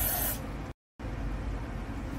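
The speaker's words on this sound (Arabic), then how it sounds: "راح اجيب هذا بخاخ الزبدة وراح ارش" Butter cooking spray hisses into a baking mould in a continuous close aerosol burst, briefly cut off, then resuming steadily.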